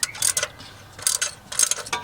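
Ratcheting wrench clicking in bursts while loosening bolts on the 3FE engine of a 1989 Toyota Land Cruiser FJ62, three close rapid runs of metallic clicks separated by short pauses.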